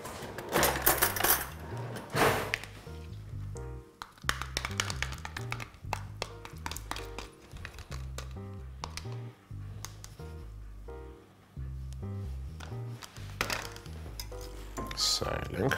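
A spoon stirs melted cream cheese in a pan for a spinach and cheese ravioli filling, giving intermittent light taps and scrapes against the metal. Rhythmic background music plays, and a voice is faintly present.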